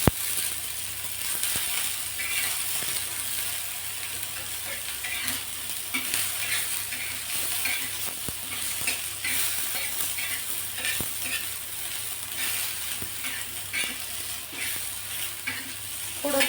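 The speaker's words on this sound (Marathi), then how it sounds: "याच तेलामध्ये हे बोंबील आपल्याला भाजून घ्यायचे आहेत" Bombay duck (bombil) fries in hot oil with a steady, dense crackle and sizzle, broken by occasional scrapes and stirring clinks, and no voices.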